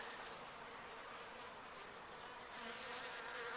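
A dense, steady buzzing of many bees swarming close by, continuous and even throughout.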